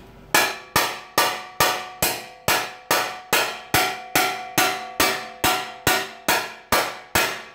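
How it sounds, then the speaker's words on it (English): A steel hammer strikes a metal trailer part in about sixteen evenly spaced ringing blows, loud and close, each clang decaying before the next, with no voices. "I'm going to use a steel hammer this time."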